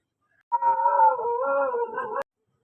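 A dog outside gives a single drawn-out howl lasting under two seconds, moderately loud and clear against an otherwise quiet background.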